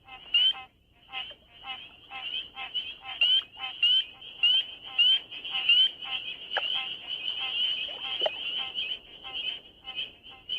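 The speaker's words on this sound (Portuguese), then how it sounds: "O motivo desse alvoroço é um sapo pequenininho, menor que o meu polegar, conhecido como rã de madeira." Wood frogs calling in a spring pond, a chorus of short, repeated duck-like clucking croaks in quick rhythmic runs, fairly close and clear, with narration spoken over them.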